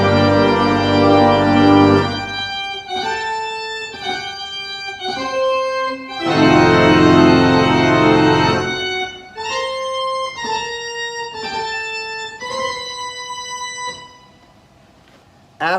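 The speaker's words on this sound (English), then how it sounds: "It has a very foreboding opening, and it sounds like this." Organ sounding the dark, foreboding opening of Poulenc's Organ Concerto: loud sustained full chords, then a series of held notes and chords, ending abruptly in near silence.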